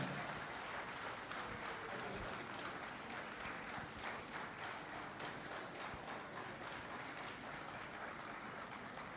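A conference audience applauds zone leaders at a banking officers' triennial gathering, a steady, fairly faint wash of clapping that runs without pause.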